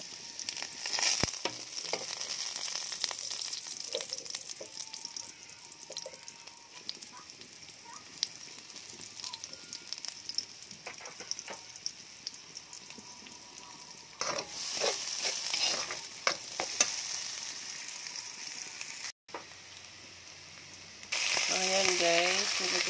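Onions sautéing in a very hot pan, a steady broadband sizzle with scattered clicks and scrapes of stirring, brief louder bursts near the end, and a faint voice in the background.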